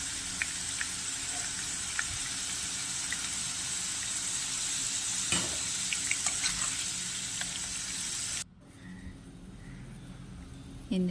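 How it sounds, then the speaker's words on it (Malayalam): Potato pieces frying in hot oil give a dense, loud, continuous sizzle with a few clinks, cutting out abruptly near the end to a quieter room hum. "എണ്ണയിലേക്ക് ഇട്ട് വറുത്ത് കോരിയെടുക്കാം."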